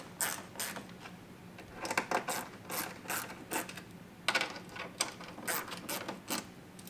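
Screws driven snug with a ratcheting tool while mounting Rokblokz mud flaps on a 2003-2008 Toyota Corolla, heard as close, rapid clicking bursts in irregular runs with brief pauses between turns.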